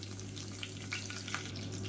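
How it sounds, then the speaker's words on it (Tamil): Mustard seeds crackle and splutter in hot oil in a home kitchen pan, a steady close sizzle with scattered small pops and a low constant hum underneath. "இப்போ கடுகு எல்லாமே புரிஞ்சிருச்சு"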